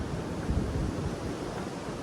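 Cold wind gusts steadily across an exposed rock on the Appalachian Trail ahead of an incoming cold front, a continuous broadband roar, loud and close with the rumble of wind hitting the microphone, no voices.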